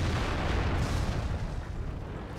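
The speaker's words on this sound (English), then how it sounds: "I think artillery might be trying to get at us, not sure." Artillery fire hits tanks in the video game World of Tanks, heard as a dense, rumbling roar of explosions that stays loud and continuous throughout, with no talking.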